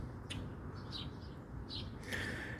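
A big blackbird perched on a house roof gives a few short, faint chirps scattered over steady low outdoor background noise, with no talking.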